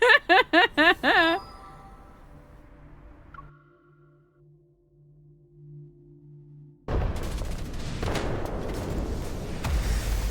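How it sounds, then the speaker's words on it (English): Game gunfire and a missile strike: a rapid burst of sharp shots up front, a quiet stretch with a low hum, then a loud sustained roar of explosion and debris. "Countless bullets whiz above our heads as I take cover. As soon as I crouch down, a missile half destroys the wall before me."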